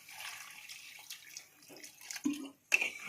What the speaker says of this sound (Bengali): এখন এর মধ্যে জল দিয়ে দেবো।